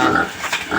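A single 40-kilo pig in its pen gives short, loud, rough grunts at close range while the pen is being cleaned.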